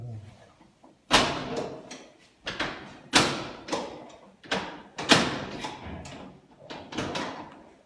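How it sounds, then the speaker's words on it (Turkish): Police forcing a door during an arrest: a series of heavy, loud thuds and slams, roughly one per second, each ringing out briefly, close by with no talk over them. "Şu anda kapıyı kırmaya çalışıyorlar."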